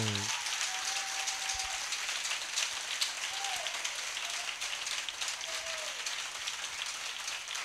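A church congregation applauds and cheers in a dense, steady wash of clapping that sounds like rain, with a few faint tonal voices rising above it.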